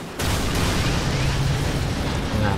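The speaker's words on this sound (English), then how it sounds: "That's a lot of explosions." Dense rumbling explosions roll continuously in Final Fantasy VII Remake gameplay, loud and heavy with low booming energy throughout.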